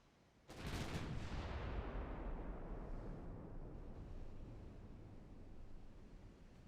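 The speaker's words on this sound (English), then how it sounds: "Fire the cannons!" Naval cannon fire in the warship game Ultimate Admiral Dreadnoughts erupts as a sudden deep boom, then a dense, rumbling roar of a broadside that slowly fades without ending, with no voices.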